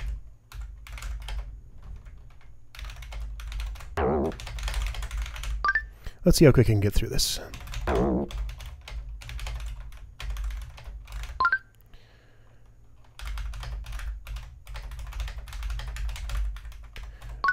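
Fast keyboard typing clatters through a computer typing game, bursts of rapid key taps broken by short pauses while someone talks over and between them.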